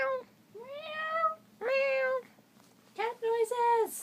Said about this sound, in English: Cat noises.